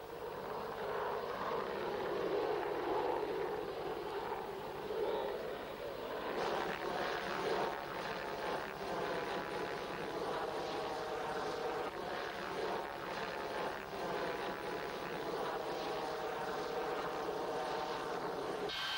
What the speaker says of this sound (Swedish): På vägen förflyttas flygplanen, vanligen för egen motor, mellan flygplanplats och lämplig rullbana.